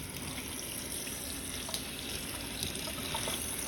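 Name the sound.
water running from a tap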